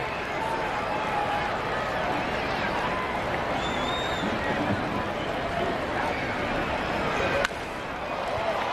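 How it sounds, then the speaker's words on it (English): A baseball stadium crowd at a 1998 Kansas City at Chicago White Sox game applauds, a steady, distant wash of clapping and crowd noise running under a commentator's voice. "So a nice round of applause for Chad Kruger."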